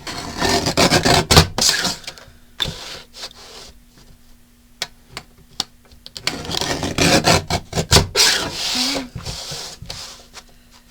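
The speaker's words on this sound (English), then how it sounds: "This is why I have a guillotine is for cutting this kind of stuff." Cardboard from a LEGO box is sliced with a guillotine paper cutter, giving bursts of rough scraping and cutting noise separated by a quieter stretch, close and fairly loud.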